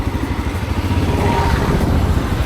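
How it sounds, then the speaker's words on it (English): A small vehicle registered with a motorcycle number plate runs close by, its engine chugging steadily with a rough, clattering drone that never lets up. "That's not even a car, it's been given a number plate for motorcycles."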